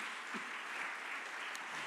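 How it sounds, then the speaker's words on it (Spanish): A church congregation applauds during a Spanish-language sermon, a steady, even wash of clapping from many hands throughout, moderately distant and without talk over it. "Dar un aplauso al Señor, por favor, en esta hora."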